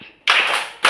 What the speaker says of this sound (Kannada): thank you clap